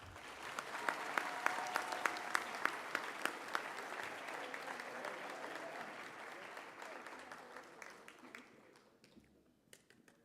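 An audience at a high school underclassmen awards ceremony gives award recipients a round of applause: a full, sustained crowd clapping with some sharper individual claps, gradually thinning and fading toward the end.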